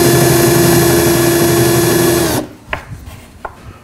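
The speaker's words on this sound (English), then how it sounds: "Then we make those same kind of countersinks on the exterior of the case." A power tool whirs steadily as it countersinks holes into the exterior of a wooden drawer case for an overland rear storage system, then cuts off abruptly, followed by a couple of light knocks.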